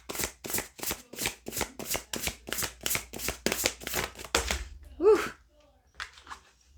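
A deck of oracle cards is shuffled up close in a fast, steady run of crisp riffling bursts, followed by a brief spoken phrase and a few softer card sounds.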